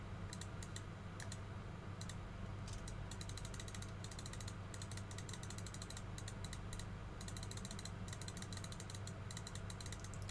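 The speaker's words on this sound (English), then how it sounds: "You hear my like spam clicking, it's because I'm actually playing as we go." Rapid, dense mouse clicking in quick bursts while playing Yu-Gi-Oh Master Duel, close and crisp over a steady low hum, with no talking.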